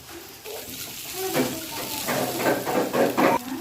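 A little water is poured into a pan of spiced masala with ginger-garlic paste, turmeric and chilli powder for an egg and potato curry, giving a rising hiss and bubbling splash with light pan clatter over several seconds.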